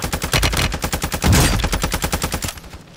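Rapid automatic gunfire in Call of Duty Modern Warfare II, a loud close burst of evenly spaced shots lasting nearly three seconds before tapering off, with no voices over it.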